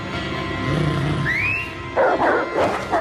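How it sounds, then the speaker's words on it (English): Hounds in a Game of Thrones scene bark and yelp in an agitated pack, with whimpering tones and a rising cry, growing loud and dense in the final second. "letting loose on him the very hounds he used to bring about so much death"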